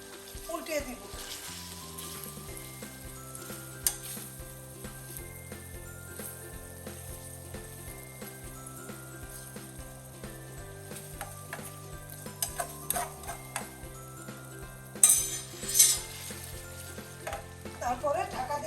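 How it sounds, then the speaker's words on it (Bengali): Fried onion beresta stirred into a simmering malai kofta curry, steady sizzling and bubbling with scraping spoon strokes and clinks of the pan, growing busier toward the end. "পেঁয়াজের বেরেস্তা দিয়ে দেখুন একটু উল্টিয়ে দিব"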